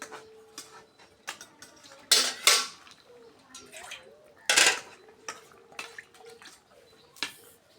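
A lid goes onto a cooking pot of egg malai curry with hilsa and cauliflower, producing sharp metallic clanks and clatters scattered among softer clicks and taps, loudest in two bursts, with no speech.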